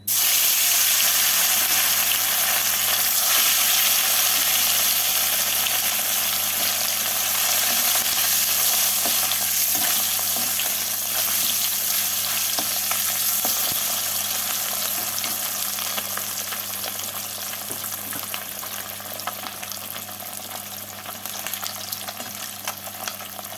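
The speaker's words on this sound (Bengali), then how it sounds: "এবার এর মধ্যে মাছগুলোকে দিয়ে উল্টে পাল্টে লাল করে ভেজে তুলে নিতে হবে" Lata fish fry in oil in an Indian home kitchen as the pieces are turned over. A loud, dense, steady sizzle runs through the whole clip with no speech.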